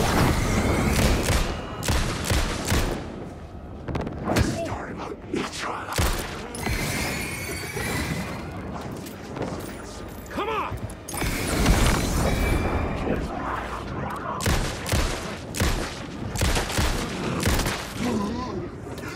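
Gunshots fired in the video game Alan Wake 2 crack out in a dense, irregular barrage of loud sharp bursts over about twenty seconds, with crashing impacts mixed in.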